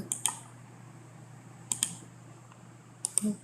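Brief bursts of typing on a computer keyboard, a few quick clicks in three separate clusters with quiet pauses between, close and fairly faint in a quiet room.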